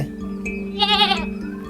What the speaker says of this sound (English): A baby goat is called a kid.